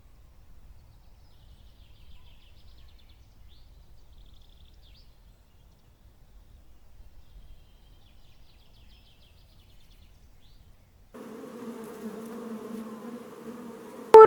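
A big-nosed bee buzzes: after a long stretch of near silence, a steady droning hum starts abruptly and continues for a few seconds, capped by a brief loud burst at the very end.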